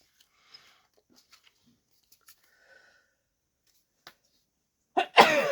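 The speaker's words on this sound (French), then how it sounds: "Oh, je vais éternuer." A single sharp sneeze bursts out at the end, following several seconds of near silence broken only by faint rustles and small clicks while crafting scrapbook paper.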